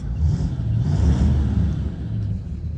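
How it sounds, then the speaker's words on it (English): A 1962 Chevrolet Corvette's 327 V8 with a 4-barrel carburetor idles warm with a deep, steady low rumble, close and continuous, with slight swells in revs throughout. "You can hear that engine come to life."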